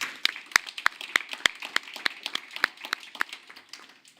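Scattered hand claps from a small group at a public library board of trustees meeting, sharp separate claps at an uneven pace that thin out and fade toward the end.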